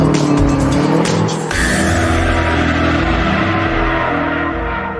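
A P2 race car converted from an R1 city car squeals its tyres loudly at close range, engine note shifting abruptly partway through as it slides on.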